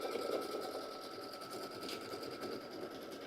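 A sewing machine runs steadily while stitching a bag, a continuous fast whirring hum with no pauses, close and fairly loud, with no one talking.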